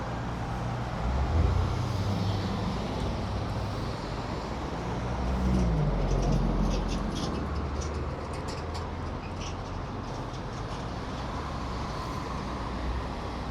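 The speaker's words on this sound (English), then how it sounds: "You can see the amount of traffic going around here." Steady road traffic circles a busy roundabout, with a continuous rumbling wash of engines and tyres and a few heavier vehicles swelling past nearby.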